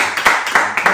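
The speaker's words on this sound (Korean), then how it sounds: "참석하는 모든 포이에마 가족들 서로를 위해서 박수하며 나아가겠습니다" A Sunday worship congregation at a mission church claps for one another: a few loud, close, rhythmic claps spaced about a third of a second apart over a single second, with no talking.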